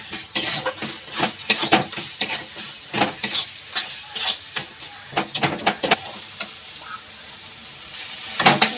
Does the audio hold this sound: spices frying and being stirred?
yes